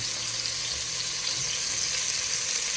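Food fries gently in a pan while cooking Senegalese thiéré, giving a steady, fairly close hiss and crackle with no voices over it.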